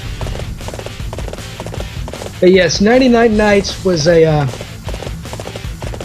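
Horse hooves clip-clop at a steady walking rhythm in the video game Dynasty Warriors 8, running throughout beneath someone talking over the gameplay.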